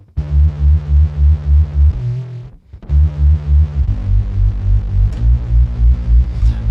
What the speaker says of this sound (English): But I want to make this distortion go a bit crazy by putting a classic vibe on it.